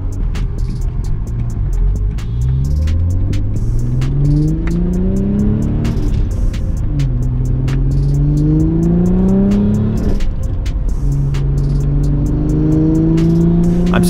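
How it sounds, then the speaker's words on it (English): A 2.7T car engine running at low, partial throttle without misfires, loud and close, revving up in repeated smooth rising sweeps as it pulls through gears, with a steady rhythmic ticking over the engine drone. "Okay, low throttle, no misfires anymore."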